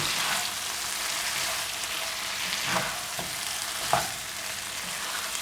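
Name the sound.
prawns roasting in butter in a pan, being stirred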